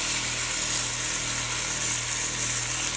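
Stuffed chicken sears in a hot pan, giving a steady, bright sizzle with a faint low hum underneath, unbroken for the whole stretch.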